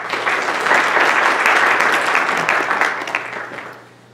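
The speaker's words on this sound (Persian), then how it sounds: "خواهش می‌کنم یه بار دیگه تشویقشون بکنید" Dense, loud audience applause fills a church hall, sustained evenly before fading out toward the end.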